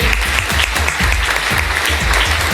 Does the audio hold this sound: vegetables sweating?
no